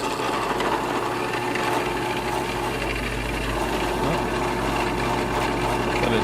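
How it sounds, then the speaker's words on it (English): A steady machine drone with a constant low hum and broadband whir runs without pause throughout, close and moderately loud, with no voices. "I'm going to turn on my drill press."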